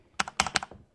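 Someone typing on a computer keyboard, a quick run of about six close, crisp key clicks in uneven rhythm, alone and fairly loud.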